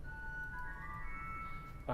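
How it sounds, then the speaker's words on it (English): Sesquialtera stop on a huge 121-rank pipe organ in Washington DC, played alone: a sustained reedy tone with bright layered overtones, one held chord shifting slightly before a brief change at the end. "We've got a sesquialtera, which sounds like this on its own"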